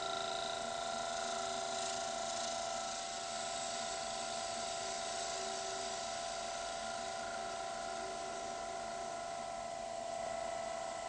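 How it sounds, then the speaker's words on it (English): A bowl gouge trimming the face of a spinning bowl blank flat on a wood lathe, a steady whining hum with a continuous scraping cut held at even loudness, alone without talk. "Trim the face flat using a bowl gouge."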